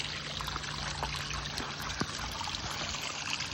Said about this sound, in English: the water's starting to drip more out the back